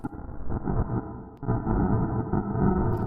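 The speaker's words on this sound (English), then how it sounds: "The sound you can hear is a friction from our train passing the border." Train friction in a video game as the train crosses a border, heard as a continuous low rumbling grind with a brief dip midway, steady and fairly close without voices.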